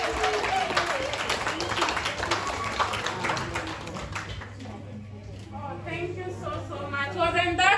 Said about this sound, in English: Please help me give my mom a big round of applause